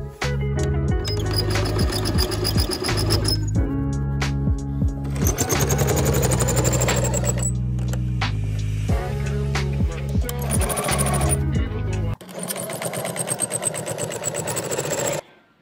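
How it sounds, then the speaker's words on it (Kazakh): Sewing machine stitching patchwork fabric pieces together, a loud, close, continuous mechanical whirring and rapid clatter running in several bursts with brief pauses between them. "Біріне бірін жалғастырып осылай тіге берулеріңізге болады."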